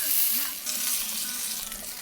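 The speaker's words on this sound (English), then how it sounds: "Alright, let's get the side seared up." Meat sears in a hot pan on a camp van burner, giving a steady close sizzle and crackle of frying fat.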